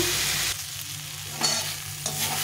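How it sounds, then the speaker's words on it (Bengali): Vegetables fry in a pan with a loud, hissing sizzle, broken by a couple of brief stirring scrapes, and the sound drops slightly between strokes. No voices. "ভালো করে ভেজে নেব।"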